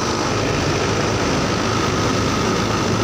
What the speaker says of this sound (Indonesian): Dari sini motornya bisa hidup ya.